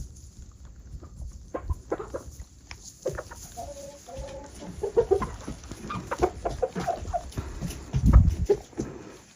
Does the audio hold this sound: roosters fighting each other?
yes